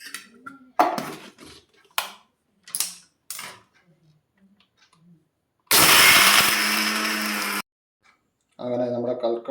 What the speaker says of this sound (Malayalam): ഒരു അഞ്ചാറ് ഏലക്ക കൂടി ഇട്ടുകൊണ്ട് നമുക്കിത് പൊടിക്കാം